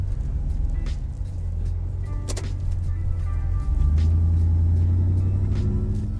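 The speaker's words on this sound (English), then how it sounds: "you don't really hear the exhaust until you get on it. But when you do, this thing will scream." 2003 Ford Lightning SVT pickup on a test drive, its engine and exhaust rumbling low and mellow, then swelling louder under acceleration in the second half.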